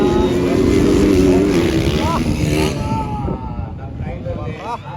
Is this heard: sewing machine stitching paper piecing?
no